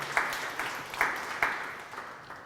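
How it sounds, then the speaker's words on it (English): A modest audience in a room gives a thin, scattered round of applause, a handful of distinct claps standing out at first before the sound gradually tapers off. "you should give yourselves a round of applause"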